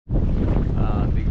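Strong wind blasts across the microphone on a small fishing boat at sea, a loud continuous roar with heavy low rumble that starts abruptly and holds steady throughout.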